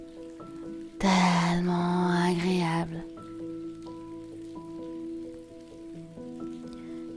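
Steady rain falls on a surface beneath soft music, continuing throughout, while someone speaks in a calm, soothing voice for a couple of seconds near the start.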